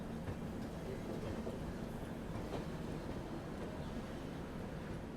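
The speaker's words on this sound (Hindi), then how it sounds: "ये आप देख लीजिए हावड़ा स्टेशन का यार्ड। इतना बड़ा और इतना बिजी रेलवे स्टेशन है हावड़ा।" The yard at Howrah railway station carries a continuous rumble of rolling trains, with rail clatter and the broad noise of a busy yard.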